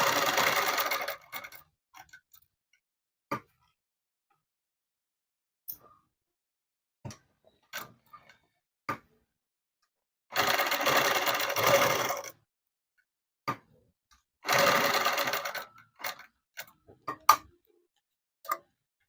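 A sewing machine stitches blouse corners, two longer runs of rapid close needle chatter between scattered clicks and ticks as the needle is lowered and the cloth turned, otherwise quiet.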